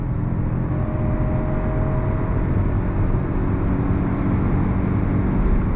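A 2022 Toyota Avalon Hybrid accelerating under throttle, heard from the cabin as a steady low engine and road drone, fairly loud and even, with no speech over it.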